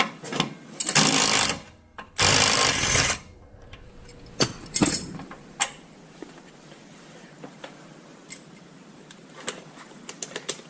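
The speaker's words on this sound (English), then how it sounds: "That's where the impact wrench comes in handy." Two loud bursts of an impact wrench rattle on the suspension nuts of a fifth-generation Camaro during a coilover install, followed by scattered clinks and taps of sockets and tools in a quiet garage.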